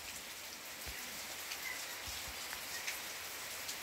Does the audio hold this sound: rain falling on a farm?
yes